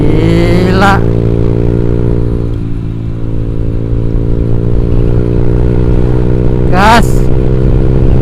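A Honda Vario 150 scooter fitted with a Black Devil aftermarket exhaust drones loudly up close, its steady engine note rising in two sharp revs near the start and end.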